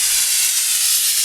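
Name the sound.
air compressor blowing dust out of gaps in hull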